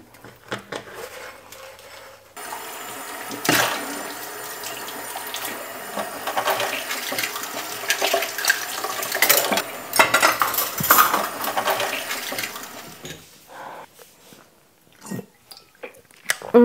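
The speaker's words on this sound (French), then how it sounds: "Je fais la vaisselle et je te raconte tout ça." Dishes being washed by hand at a kitchen sink: steady running water from the tap with intermittent clinks of cutlery and plates, close and moderately loud, with no talking.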